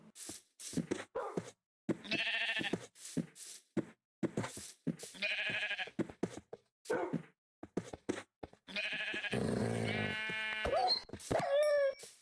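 Blocky sheep in the video game Minecraft bleat repeatedly in short, loud bursts. A long drawn-out bleat comes near the end, with brief pauses between the calls.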